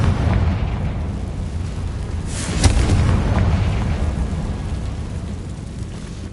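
A Confringo fire spell goes off in Hogwarts Legacy, heard as a low rumbling boom with one sharp crack near the middle, set against a continuous dense roar of game noise.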